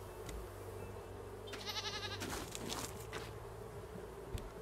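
A goat in the survival video game Raft lets out a short, wavering bleat that stands out over a steady droning game background, with a few other brief game noises around it.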